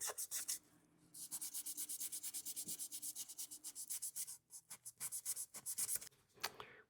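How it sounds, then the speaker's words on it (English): Rhythmic sanding of a briar pipe body, quick repeated rasping strokes close by, pausing briefly midway before resuming. "Now we're just sanding the main body of the pipe."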